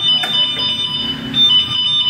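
A Garow RZ500 electric bike's anti-theft alarm sounds continuously, a loud, steady electronic tone that runs without pause through the short stretch.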